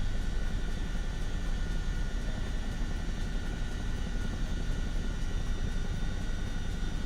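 A tiltrotor-style helicopter-aeroplane engine in Microsoft Flight Simulator gives a steady, continuous droning roar with a low rumble that holds even and loud throughout, with no voices.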